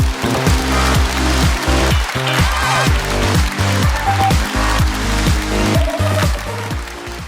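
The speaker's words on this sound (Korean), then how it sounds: "큰 박수 부탁드립니다" Sustained audience applause at a franchise business forum talk show, a steady wash of clapping blended with loud, rhythmic bass-heavy music playing throughout.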